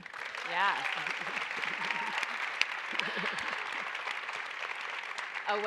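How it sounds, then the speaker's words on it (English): An audience at a Women in the World Texas salon applauding, a steady wash of clapping with cheers and whoops rising over it, heard from within the room, a voice briefly audible over the clapping. "A well-deserved round of applause."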